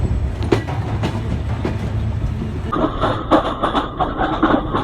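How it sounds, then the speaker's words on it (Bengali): Rumbling of train no. 806 departing Joypurhat railway station, with rhythmic clicking of wheels over rail joints, growing busier and clattering partway through as the carriages roll on. "রাইট নাও আমাদের ট্রেনটি এখন ছেড়ে যাচ্ছে জয়পুরহাট রেলওয়ে স্টেশন"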